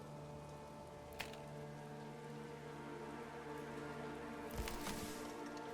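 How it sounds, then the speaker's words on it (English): Steady rain falls in the Manor Lords video game, a soft continuous patter across the whole stretch with a couple of brief sharper splashes; no one talks. "The rain is coming down"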